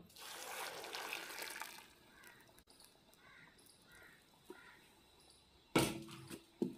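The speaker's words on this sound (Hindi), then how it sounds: "अब मैं इस शीरे को इसमें डाल दूँगा।" Hot sugar syrup poured into roasting semolina for a dry suji halwa, giving a brief watery gush and trickle near the start before fading into quiet kitchen noise, with a few short clatters later.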